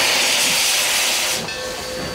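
Loud, continuous steam hiss from a steam locomotive on the Durango and Silverton railroad, a broad rushing wash that dips slightly partway through as a faint whistle-like tone appears, with no talking.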